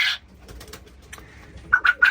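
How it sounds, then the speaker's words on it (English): Doves inside a quail aviary shed make a few soft calls and chirps, fairly near, with a brief sharper burst at the start and a cluster of calls toward the end. "I do have a few of my favourite doves in here as well"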